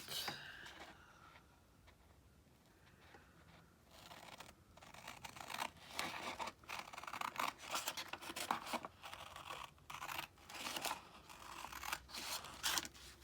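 Scissors cutting paper to make a folded pocket for a Christmas journal page, with a quiet pause followed by a long run of crisp, rapid snips and crunching paper close by.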